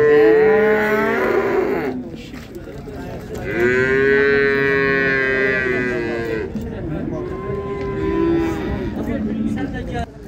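Calves at a livestock market in Beyləqan, several long, loud mooing calls close by, drawn out and overlapping, with low crowd noise and a few voices in the background.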